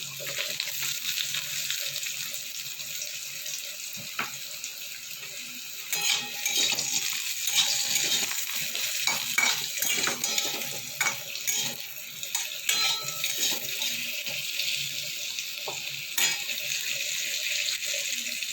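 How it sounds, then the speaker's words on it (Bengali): Potato pieces fry in a little oil in a pan for a Bengali yardlong bean and potato dish, giving a steady, fairly faint hiss with scattered crackles and light clinks, and no talking. "এবার আলুটা আমি একটু লাল করে ভেজে নেব।"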